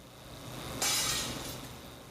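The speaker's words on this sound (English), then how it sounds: "The sodium-based glass shatters completely." A steel ball bearing dropped from about a foot strikes a pane of sodium-based glass, which shatters completely in one sudden bright crash that trails off into a fading tinkle over steady background noise.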